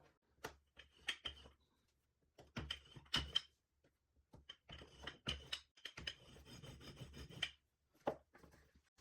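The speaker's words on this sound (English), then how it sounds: "use a rolling pin to roll on, guide it on both rails." A rolling pin guided on two rails rolls out a clay slab for a lidded jar, giving quiet intermittent rubbing and knocking strokes with short pauses between them.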